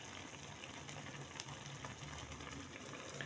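A steady low bubbling and gentle sizzle of a coconut milk stew simmering in a pot, continuous and close, with no talking.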